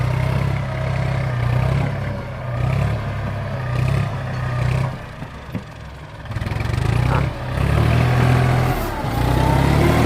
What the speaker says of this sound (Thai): วันนี้มีรถไถนะ